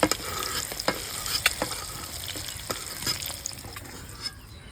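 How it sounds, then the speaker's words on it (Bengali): Eggs fried in oil in a pan while cooking bhuna khichuri, a steady sizzle and frying crackle with scattered scrapes and stirs, close and continuous with no talk. "এই যে ডিমগুলো লাল লাল করে খুব সুন্দর ভেজে নিয়েছি"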